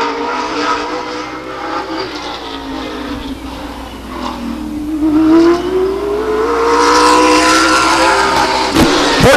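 Race car engines at Stockton 99 Speedway, a loud sustained roar with a rising and falling whine as a car accelerates past close by, growing louder in the second half.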